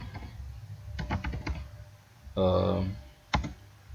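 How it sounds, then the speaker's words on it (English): Quick clusters of computer keyboard key clicks while typing into Virtual DJ 8 DJ software, with short bursts of keystrokes separated by pauses and a stretch of someone talking between them. "we're going to type in crossfader"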